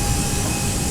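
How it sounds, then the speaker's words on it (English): Steady broadband rush of cabin air and air conditioning packs in an A320 flight simulator, a loud continuous hiss with a faint tonal hum and no change throughout. "So now you hear the air rushing, and the packs."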